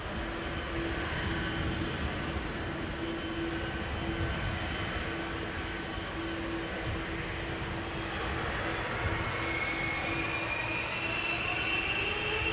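A KLM Boeing 777-300 with GE90 engines roars steadily through its takeoff run at Schiphol's Polderbaan, a continuous broad rumble with a faint steady tone running beneath, loud and unbroken throughout.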